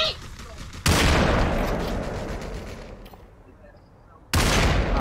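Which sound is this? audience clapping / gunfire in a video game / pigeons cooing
gunfire in a video game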